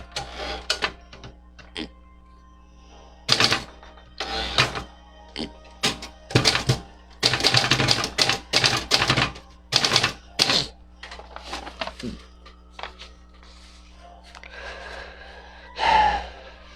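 A mechanical typewriter is typed on at close range: irregular clusters of sharp key strikes and clacks over a steady low hum, with brief pauses between the flurries and no speech.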